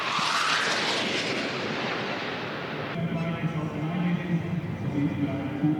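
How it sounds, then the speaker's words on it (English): Loud, steady roar of aircraft engines as planes fly overhead in formation, a broad rushing drone that shifts midway and continues with a lower rumbling hum. "I love it when planes fly in unison like that."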